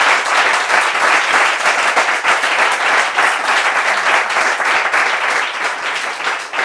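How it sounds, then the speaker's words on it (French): A studio audience breaks into steady, enthusiastic applause, many hands clapping densely and evenly at close range for several seconds with no talk over it. "On va pouvoir peut-être les applaudir"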